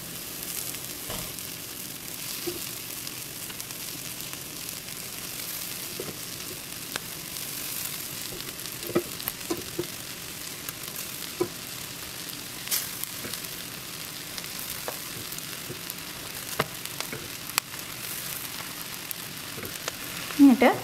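Rice for egg fried rice stir-fried in a hot pan over medium-high heat, a soft steady sizzle with occasional spatula scrapes and taps, fairly quiet and close.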